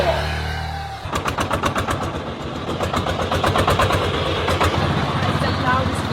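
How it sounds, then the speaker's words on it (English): A loud vehicle engine on a road in China starts and idles nearby with a rapid, heavy chugging beat that keeps pounding steadily throughout. "the loudest vehicle I've had in ages"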